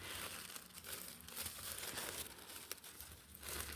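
Stiff old paper from a 1920s McCall sewing pattern crinkles and rustles continuously as it is unfolded close by, with brief sharper crackles and no talking.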